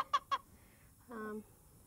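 A couple of short, sharp hen clucks up close from an old chicken, followed by a brief drawn-out vocal call, then quiet.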